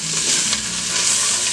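Minced garlic sizzles steadily in a pot for a potato soup, a continuous close, bright frying hiss with faint stirring, no voices.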